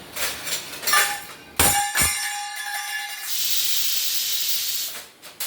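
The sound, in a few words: vegetable curry cooking, steam hissing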